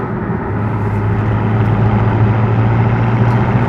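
A 2016 BMW M6 with the Competition Package gives off a low, steady exhaust drone while accelerating, heard from inside the car as a loud, continuous rumble with a sustained tone rising partway through.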